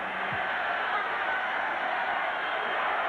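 A stadium crowd roars steadily at a 1983 football game between the San Diego Chargers and the Los Angeles Raiders, a broad, continuous wash of cheering that stays loud throughout.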